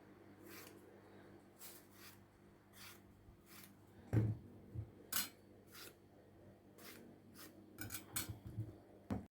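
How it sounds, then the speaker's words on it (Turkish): A fruit knife scores the skin of an eggplant in a quiet kitchen, giving faint, short scraping and tapping strokes in an irregular rhythm with brief pauses, a few louder knocks near the end. "şöyle bir meyve bıçağı ile de Patlıcanımı şöyle şekilde çiziyorum"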